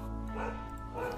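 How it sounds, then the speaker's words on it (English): Two dogs, a neighbor's and a house dog, barking back and forth, a brief burst of yips and woofs heard at a distance indoors, faint and muffled. "The neighbor's dog is barking, and my dog is barking back."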